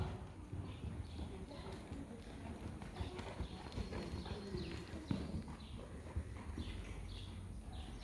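A horse trots during a Vaquero horsemanship riding lesson, its hooves beating out a steady, rhythmic clip-clop on the ground at moderate distance, with faint background noise.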